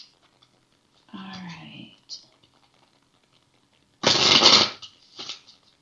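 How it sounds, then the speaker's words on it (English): Quiet whispered talk, then a brisk burst of tarot cards being shuffled close by, followed by a shorter second riffle. "as I'm shuffling these cards"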